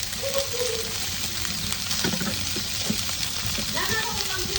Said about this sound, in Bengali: এই যে ভেন্ডি ভাজি দেখেন হয়ে গেছে, কি সুন্দর ঝরঝরা হয়ে গেছে